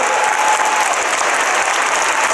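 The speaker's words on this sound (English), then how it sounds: "Guys, a round of applause!" A loud, dense round of applause from a large audience at a German Comic Con Lord of the Rings Q&A with Billy Boyd and Andy Serkis, steady and continuous throughout.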